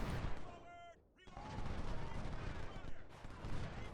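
Massed musket and cannon fire from a Civil War battle in the strategy game Ultimate General: Civil War, a steady crackling barrage with dense overlapping shots and a brief lull partway through.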